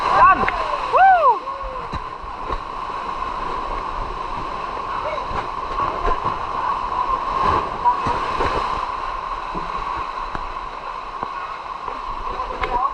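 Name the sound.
big waves crashing during typhoon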